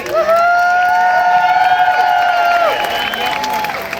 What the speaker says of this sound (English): Give yourselves a round of applause for taking your action.